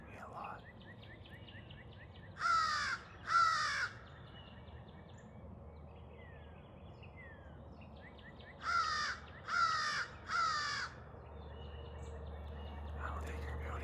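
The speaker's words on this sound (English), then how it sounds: "crow's helping me a lot" Crows caw from far off along a road in open public land, two quick caws followed later by three more, each call distant and harsh over a faint outdoor hush.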